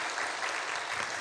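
Brief, steady applause from a church congregation at a Korean Sunday worship service, a dense even wash of clapping at moderate distance.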